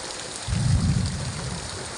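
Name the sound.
thunder during rain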